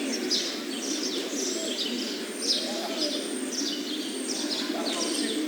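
Birds call continuously outdoors, with repeated high chirping phrases over a steady noisy wash and a soft lower coo-like call partway through, moderately loud and unbroken.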